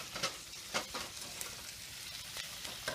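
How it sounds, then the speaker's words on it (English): Tomato pasta sauce with parsley, basil and bay leaves being stirred in a pot, a soft scraping and gentle sizzle with a few light spoon knocks, quiet and close, no talking. "Give this a good stir."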